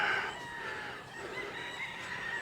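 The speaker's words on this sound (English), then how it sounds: "Pretty birds." Chickens on a ranch crow and cluck close by, a long drawn-out rooster crow mixed with brief clucks, loud and clear over faint outdoor background.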